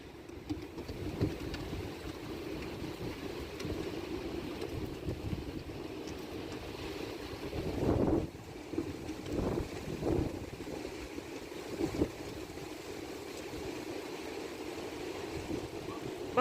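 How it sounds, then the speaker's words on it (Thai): Strong wind buffeting the microphone outdoors near a house, a continuous loud roaring rush with heavier gusts surging through the middle, with no talk over it. "เสียงลมเด้อ"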